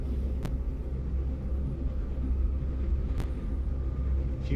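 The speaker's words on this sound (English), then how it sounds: "Do you hear that car that's outside?" A car rumbles outside as a steady low, muffled drone in the background, with a couple of faint brief clicks over it.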